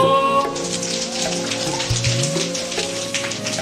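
A group does a rain clap during a yoga session for teenagers, clapping hands in a dense, fast patter that imitates rainfall. The pattering is loud and continuous over a sustained tonal hum.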